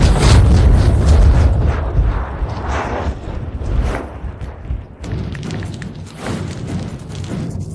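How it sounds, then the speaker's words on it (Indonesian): A loud, deep explosion opens with a rumbling blast, followed by further booms and crashing debris that fade and return over several seconds. "Ledakan di mana-mana."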